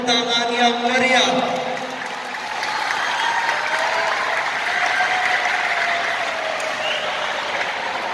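Audience applause at the opening ceremony of the 2023 INKAI national karate championship in Bali: a steady, dense crowd clapping that swells after a brief stretch of amplified voice and music, then holds evenly to the end.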